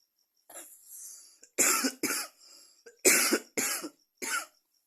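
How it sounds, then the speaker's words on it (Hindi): A series of sharp coughs, a couple of faint ones followed by two close pairs of loud, harsh bursts separated by short pauses. "सॉरी खांसी आ रही है"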